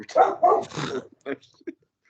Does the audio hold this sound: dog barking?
yes